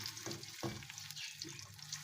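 Onions lightly frying in a pan over a low flame, a soft steady sizzle with gentle stirring scrapes and light clinks against the pan.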